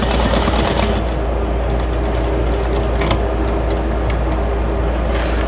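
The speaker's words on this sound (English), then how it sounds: "when I top stitch, I like my stitch length to be a little larger" A sewing machine top stitches a potholder with a longer stitch length, running as a steady, continuous mechanical whir with a faint rapid ticking, close and fairly loud throughout.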